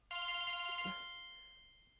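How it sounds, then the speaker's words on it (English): A cell phone ringtone sounds once, a bright multi-tone ring that starts abruptly at full volume and then fades out over about two seconds, heard alone without talk. "It's actually just my cell phone"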